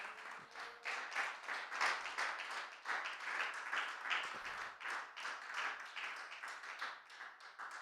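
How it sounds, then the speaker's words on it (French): A church congregation applauds during a worship service: dense, sustained clapping from many hands, steady and faint, as if heard from a distance across the hall. "Est-ce qu'on peut applaudir Mamita?"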